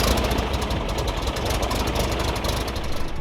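A Sopwith Pup replica biplane's propeller engine idles close by at an airshow, a loud, rough, rapidly pulsing rumble with a steady knocking rhythm and no talk.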